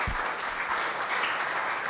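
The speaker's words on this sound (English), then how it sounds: "Big round of applause." Audience applause after a panel talk at a city planning forum: a dense, steady clapping that fills the room and runs unbroken for about two seconds.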